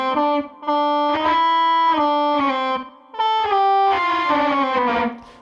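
Harsh, buzzy FM synthesizer notes through bad distortion, played in a short melodic phrase, gritty and distorted, with brief gaps between held tones.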